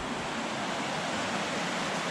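River water flowing steadily near an access point down to a milky, fairly deep river, heard as a close, continuous broadband rush with no talk.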